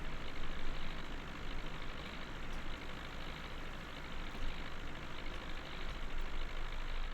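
A tractor engine in Farming Simulator 19 revs up while working with a PTO-driven implement making silage bales, a loud continuous low diesel drone and whine filling the whole stretch with no talk.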